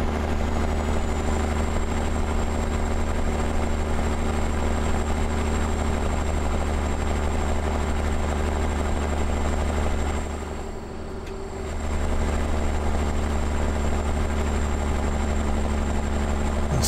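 A tuned truck engine runs steadily in American Truck Simulator, a loud continuous drone with a constant high whine, dipping briefly for a moment before resuming alone without talk.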